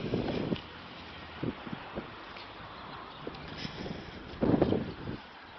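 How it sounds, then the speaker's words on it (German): Gusts of wind buffet the microphone outdoors in loud rumbling bursts, strongest at the start and near the end, with a steady rushing noise between them. "Oh, ist der Wind zu doll."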